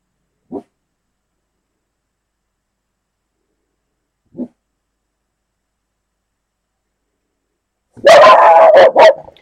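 Two single faint barks spaced several seconds apart, then a loud burst of rapid barking at the end.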